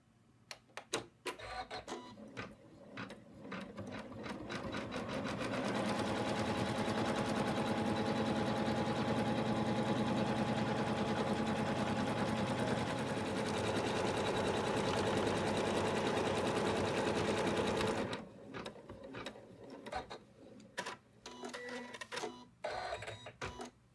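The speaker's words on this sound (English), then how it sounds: "now we're going to stitch out the next color, which will secure this bit of fabric" An embroidery sewing machine stitches out fabric for an in-the-hoop Santa bib, starting with scattered taps, then running in a long, loud, steady mechanical whir for about twelve seconds before dropping back to irregular stitching taps, with no talking.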